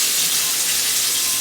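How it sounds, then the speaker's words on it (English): Steady, dense sizzling and crackling of chicken pieces frying in hot oil, close up and continuous with no talking. "When we finish frying these pieces of chicken"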